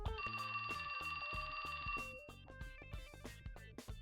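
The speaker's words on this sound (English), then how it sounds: "That's my phone." A phone rings in the video game 428 Shibuya Scramble, a bright repeating electronic trill that plays alone and then gives way to a shifting melodic tone sequence.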